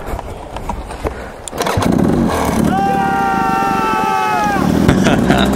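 A dirt bike engine that had been submerged during an Idaho single-track ride is heard running after it restarts, a steady loud close revving drone with a rising whine, after a brief rough start and some background commotion.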